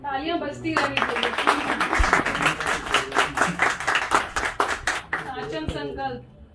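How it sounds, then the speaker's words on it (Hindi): Steady group clapping at a business certificate ceremony, continuous and fairly loud for about six seconds with a voice speaking over it at the start and end. "तालियां बजती रहनी चाहिए।"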